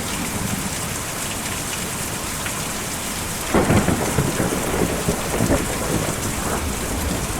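Heavy rain hisses steadily in the Kentucky Route Zero game, and about halfway through a loud crack of thunder breaks out and rolls on in low rumbles beneath the constant downpour.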